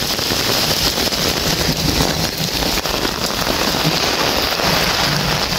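Heavy rain pours down on a Manila street corner during Typhoon Crising, a loud, dense, unbroken hiss of water drumming on surfaces close by.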